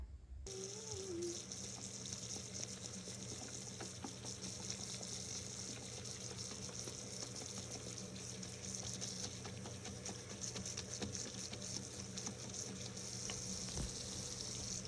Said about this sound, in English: usually I'll just give it a good run with the water running and try to get the bulk of it out